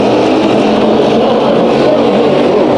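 Race cars battling for third place in a heat race at Bakersfield Speedway, a loud, continuous roar of several engines at close range, steady throughout with no talk.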